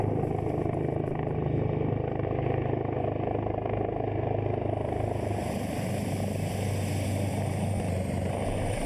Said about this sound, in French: L'hélicoptère du président de la République a atterri au stade Albouri Ndiaye